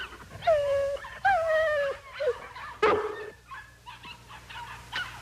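A dog whimpers and howls in drawn-out, wavering cries, several separate calls with pauses between, close and clear with a sharp bark-like yelp midway.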